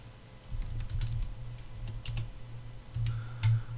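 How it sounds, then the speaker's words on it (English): Keys on a computer keyboard are typed in short, quiet bursts of close, soft clicks with brief pauses between them. "I type in texture sample over here."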